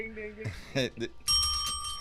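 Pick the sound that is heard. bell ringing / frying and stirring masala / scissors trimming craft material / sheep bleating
bell ringing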